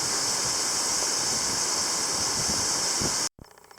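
An Alpine waterfall roars as a dense, steady rush of falling water, loud and unbroken for about three seconds before cutting off abruptly.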